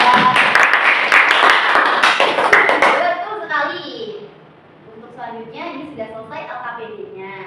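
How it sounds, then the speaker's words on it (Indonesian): Applause from a microteaching class on viruses at UNMUH Jember, a dense burst of many hands clapping for about three seconds, then giving way to a voice speaking. "Tepuk tangan untuk Mbak Firda."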